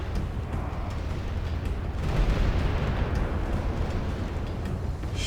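Battle gunfire in a strategy game against Ottoman infantry, with dense rumbling volleys and booms blending into a continuous roar that swells midway.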